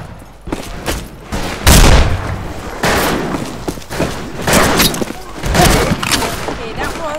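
Wild West gunfire in the video game Fistful of Frags booms repeatedly and loudly, several sharp shots with echoing tails, mixed with other in-game noise.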